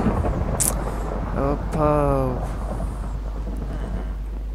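Rain and rolling thunder in the Minecraft video game, a loud thunder crack early, then steady rain hiss under a brief spoken exclamation.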